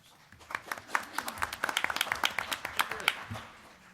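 A small faculty audience at a college town hall gives a brief, thin round of clapping as a speaker is introduced, with scattered individual claps rather than a full roar.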